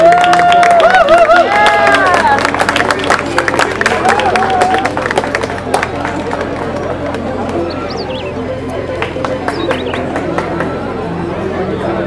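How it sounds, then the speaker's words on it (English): An audience at an Indonesian Independence Day anniversary reception applauds amid dense crowd chatter and cheering, with scattered claps that continue as the voices die down, heard close and fairly loud. "Can we please give a round of applause for Mr. Wenten, Niño Man Wenten?"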